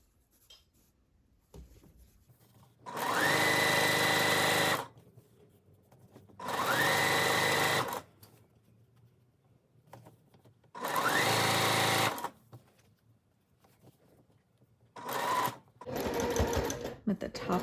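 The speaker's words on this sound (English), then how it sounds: "I'm sewing at 1/4 of an inch to finish this French seam." A sewing machine stitches a quarter-inch French seam on seersucker in three long runs and a short one, each bursting loud and close, separated by quiet pauses.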